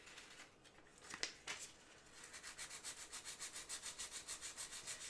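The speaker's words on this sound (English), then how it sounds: "I'm being a little bit more forceful on the sanding here because I feel like I got something on here I didn't want" Bondo body filler being hand sanded, a steady rhythmic rubbing that starts in a few scattered strokes and then settles into fast, even back-and-forth passes, close and fairly quiet.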